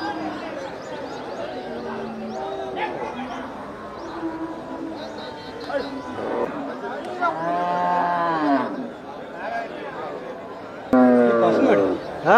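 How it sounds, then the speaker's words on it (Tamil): A native-breed cow at a cattle market moos in a few drawn-out calls, with people chattering close by throughout. "நாட்டு பசுமாடு."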